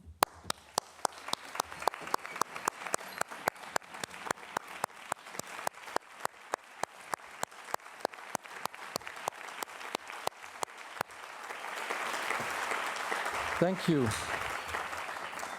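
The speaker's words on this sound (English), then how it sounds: "we can all stand up and applaud" At a university alliance kick-off event, a standing audience claps in a steady, rhythmic beat that swells into a dense, sustained wash of applause near the end. A voice briefly offers thanks over it.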